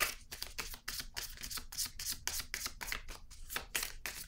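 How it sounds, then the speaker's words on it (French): Tarot cards handled and drawn from a deck, a quick run of soft, close papery flicks and slides in an even rhythm, with no voice over them. "Je vais piger une autre carte"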